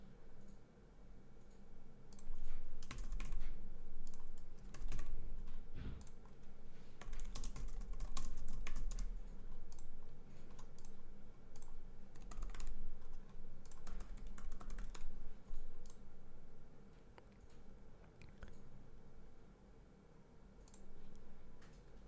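Steady typing on a computer keyboard while filling out an online store setup form, a long stretch of close, clattering key presses and clicks with brief pauses and no talking.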